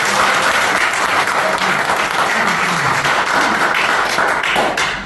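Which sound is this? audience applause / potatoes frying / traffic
audience applause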